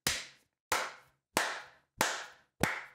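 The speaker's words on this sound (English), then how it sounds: "Let's give him a round of applause." Five slow, evenly spaced claps ring out alone, each sharp and close with a short decaying tail and silence between them.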